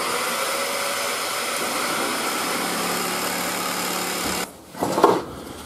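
A steady high-pitched motorized buzz of a jigsaw cutting wood runs continuously, then cuts out abruptly, followed by a brief clatter.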